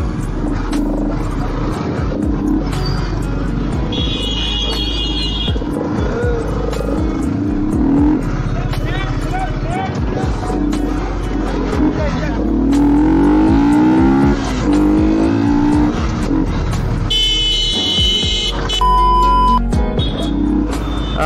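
A Yamaha R15 motorcycle roars through busy traffic near a clock tower in Kashmir, its loud engine revving and surging with short bursts of acceleration. Traffic noise and occasional horns sound nearby.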